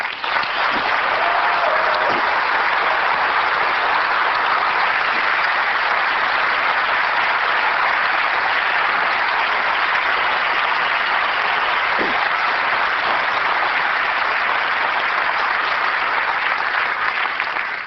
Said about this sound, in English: I would like to give a round of applause to all of our software engineers in the audience